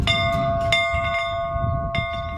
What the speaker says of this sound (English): Once they hear the school bell ring, they go back in time.